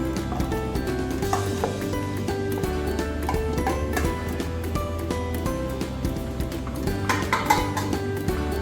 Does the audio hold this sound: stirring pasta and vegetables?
yes